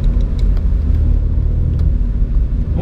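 A Mini John Cooper Works Challenge on the road with its exhaust valves open: a loud, deep engine rumble and throbbing exhaust note sits close and steady throughout, with a few sharp pops rising above it.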